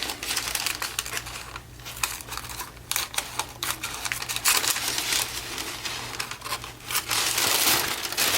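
Scissors snip a small piece of junk-mail paper for a shaker envelope, with crisp close snips and crinkling paper in irregular bursts, no voices.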